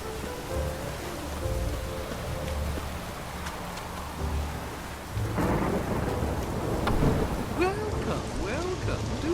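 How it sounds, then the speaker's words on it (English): Steady heavy rain pours down in the video game The Witcher 3, with deep rumbles of thunder rolling through, intensifying partway with a louder crack and downpour. "It's really raining now. I like storms"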